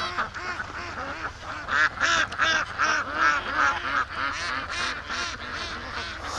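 Wild ducks and geese on a lake, with Muscovy ducks present, give a dense chorus of quacks and honks, close and continuous, rising into bursts of overlapping calls.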